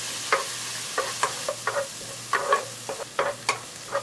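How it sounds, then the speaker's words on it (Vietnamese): Minced shallot and garlic sizzle and crackle in hot oil, with irregular spattering pops and occasional stirring over a steady low hum. "Dầu nóng thì mình cho hành tỏi băm vào phi thơm"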